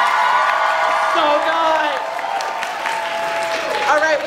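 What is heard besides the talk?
audience applause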